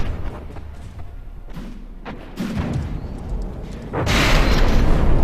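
Heavy explosions from an incoming artillery barrage in the naval combat game From the Depths: several loud, deep booms land in turn, then build into a sustained rumbling roar near the end.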